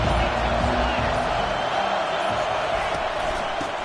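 Stadium crowd in the College Football 25 video game, a dense continuous roar of many voices and cheering at steady volume, filling the whole stretch without pause.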